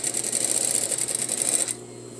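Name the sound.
sewing machine stitching a neck facing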